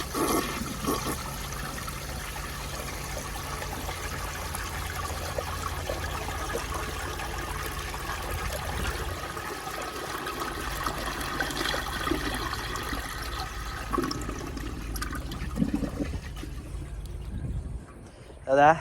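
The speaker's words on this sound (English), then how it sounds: "let's give her a flush" A 1972 Kohler Wellworth vintage toilet flushes with a siphon jet, producing a sustained rushing and gurgling of water for many seconds that tapers off at the end, while a person talks faintly at times.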